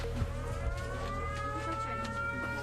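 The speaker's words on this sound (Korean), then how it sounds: "취재진이 갑자기 울린 사이렌 소리에 방공호로 대피하기도 했다는데요." An air raid siren sounds in Chernivtsi Oblast, Ukraine, a steady wailing tone slowly climbing in pitch over a constant low rumble, with no voices.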